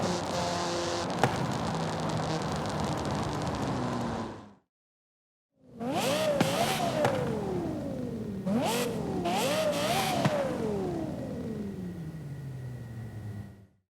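Car engine in the Forza Horizon 5 racing game, revving hard with rising and falling pitch sweeps and sharp exhaust backfire pops, loud and close, broken by a brief silence partway through.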